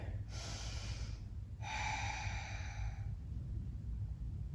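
Two long, soft breaths, each about a second and a half, drawn and released slowly during a yoga quad stretch, close and alone against a low background hum.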